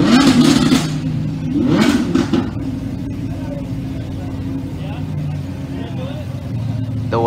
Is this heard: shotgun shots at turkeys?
no